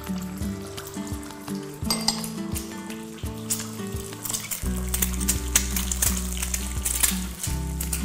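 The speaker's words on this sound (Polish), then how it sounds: "Wrzucam, a dokładnie delikatnie przekładam jajo, tak żeby mi się zaczęło smażyć." An egg sizzles in hot oil in a pan on a home stove, with a steady crackling fry and repeated clinks and scrapes of a utensil against the pan.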